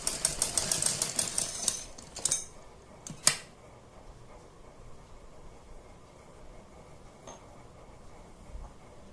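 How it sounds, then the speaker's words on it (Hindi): Sewing machine stitching pleats on salwar fabric, a quick rattling run of needle strokes for about two seconds, then a few isolated clicks before fading to quiet. "इन पर आप इस तरह से डाल के सिलाई लगाते जाइए"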